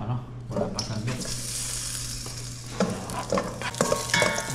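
Food is sautéed in a hot pan and stirred with a ladle in rural home cooking: a continuous sizzle broken by clattering stirs and scrapes over a low steady hum, with some talk in the background.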